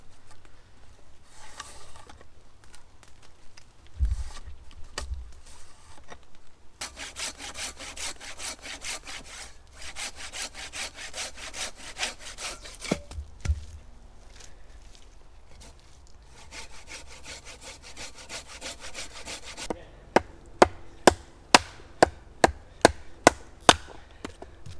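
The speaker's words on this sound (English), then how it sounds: "we're sawing about 1/3 of the way into the wood" A hand saw cuts about a third of the way into wood in repeated back-and-forth strokes, steady and rasping, with a few sharp knocks and quicker strokes near the end.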